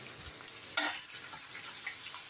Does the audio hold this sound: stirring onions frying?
yes